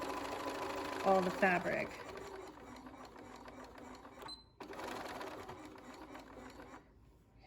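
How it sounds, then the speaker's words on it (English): A sewing machine stitches a 1/4 inch seam on a fabric zipper pouch, a steady run of stitching under a person talking close by, with a brief pause before the stitching resumes. "So I'm going to sew along here with this 1/4 inch seam."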